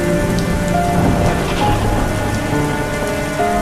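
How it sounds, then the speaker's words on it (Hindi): Heavy rain pours steadily onto a surface, a dense constant hiss and patter with a low rumbling undertone throughout. "उस शाम बारिश तेज हो रही थी।"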